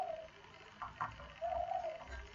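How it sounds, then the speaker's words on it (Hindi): An outdoor bird calls faintly, a couple of soft whistled coos rising over a quiet room hum with some low knocks in between. "इस पंछी की आवाज़ बहुत दिनों बाद सुनाई दे रही है"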